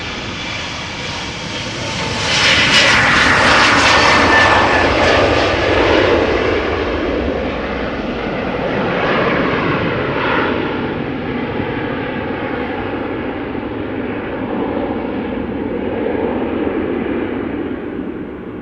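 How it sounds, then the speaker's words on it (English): Embraer 175 jet of LOT Polish Airlines at Amsterdam Schiphol, its engines roaring loudly and close, a broad rushing whine that peaks early and then holds as a steady, slowly fading roar. "So Embraer 175 from LOT for Polish Airlines, going to Warsaw."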